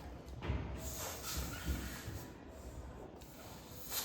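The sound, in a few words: balloon being inflated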